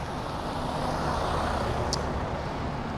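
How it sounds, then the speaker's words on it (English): A loud truck roars past a rider on the road, a dense broadband rush of engine and tyre noise that stays strong and even throughout, with wind buffeting the camera. "Passing a loud truck."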